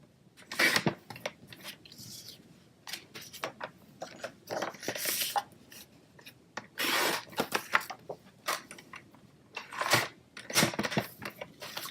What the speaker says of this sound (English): let me just trim these down so that we can get more on there for time's sake.